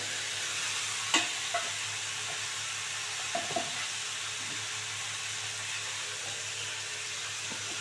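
Cauliflower stalks fry in a pan for a shrimp and cauliflower-stalk chorchori, a soft steady sizzle with a few light clinks and scrapes of stirring.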